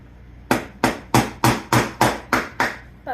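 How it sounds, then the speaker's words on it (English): A big hammer drives a nail into wood during a jewelry shelf build, giving eight loud, sharp, evenly spaced strikes about a third of a second apart, each ringing briefly and then decaying. "put your nail in, and I'm gonna use my big hammer instead of this little hammer I have"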